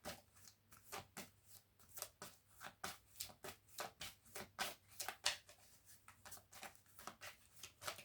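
Tarot cards are shuffled for a reading in quick, crisp riffling bursts, close and fairly soft, repeating rhythmically throughout.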